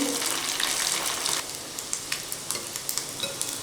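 Leftover rice balls deep-fry in hot oil, giving a steady bubbling sizzle with a few soft knocks from stirring, close and moderately loud.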